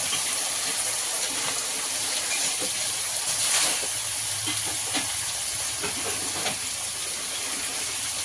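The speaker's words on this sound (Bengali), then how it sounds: "আলুগুলো একটু নুন দিয়ে ভালো করে লাল লাল করে ভেজে নেব" Salted potato pieces fry in a pan with a steady, close sizzle and crackle, broken by occasional stirring scrapes, with no talking.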